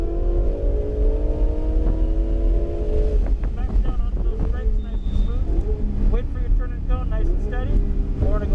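A Ferrari 488 GTB accelerates on a track, its engine note rising loud and close from inside the car, then pulsing through quick upshifts as revs climb again, with wind rush and a person talking over it.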